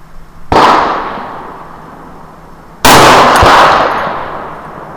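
Two sharp, loud rifle shots fired at a 200-yard range, each a sudden crack followed by a fading rolling echo, about two seconds apart, close and without talk.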